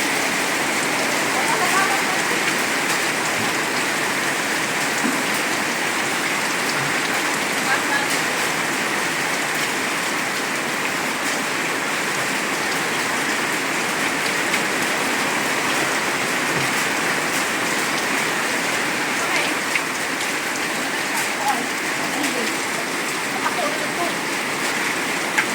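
Heavy rain pours steadily and loudly on the surroundings, a dense, unbroken hiss that holds without pause throughout, with no voices heard.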